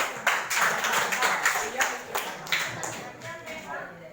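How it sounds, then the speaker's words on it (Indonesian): A classroom group bursts into a round of applause, several seconds of dense, close clapping with rhythmic hand hits that gradually taper off, voices mixed faintly underneath. "Di bagian A, tepuk tangan dulu."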